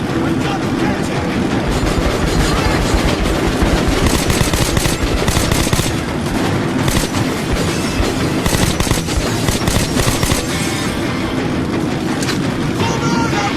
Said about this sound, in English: That's the train! We were right!